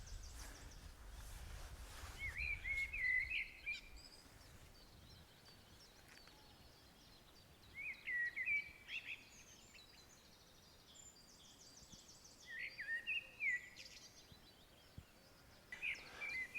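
A bird sings from the very top of an ash tree at dawn near Walney, its rich, unhurried phrases coming in separate bursts at moderate distance against a quiet, faintly rustling background.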